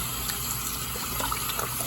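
Tap water runs steadily into a sink while raw oxtail meat is rinsed by hand for a Cajun oxtail dish, a continuous close splashing rush with small wet clatters and no speech.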